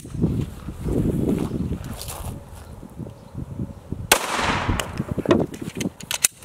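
A single loud, sharp rifle shot of a lightweight high-velocity bullet fired into a stack of hockey pucks outdoors, a sudden crack with a brief decaying tail after several seconds of wind and low rumble.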